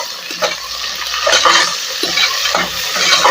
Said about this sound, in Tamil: நல்ல ஒரு கோல்டன் ப்ரௌனாக வரட்டும், அது வரைக்கும் நல்லா வதக்கி விட்டுக்கலாம்.